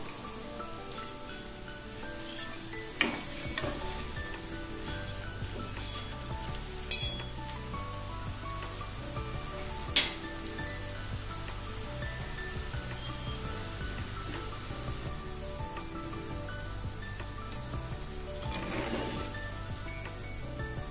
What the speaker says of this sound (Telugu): మీడియం ఫ్లేమ్ పెట్టుకొని వేయించుకోండి చక్రాలు.